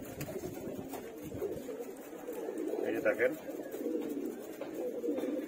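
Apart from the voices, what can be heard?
pigeons cooing, female Jacobin pigeon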